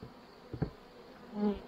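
Honey bees buzz briefly and faintly from a small nuc hive during a late-summer inspection, with a couple of short close passes.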